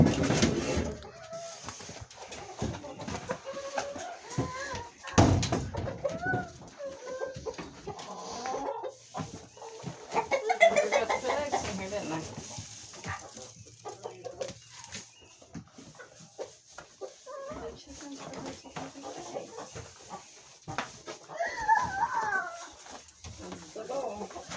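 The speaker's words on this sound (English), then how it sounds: "A rooster with the duck." Chickens cluck on a farm, including a rooster, with scattered clucks and squawks mixed among rustling and handling noises while people talk over them.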